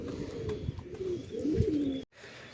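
Pigeons coo steadily in a breeding cage where a male and female are paired, soft low rolling calls repeating close by before a brief cutoff.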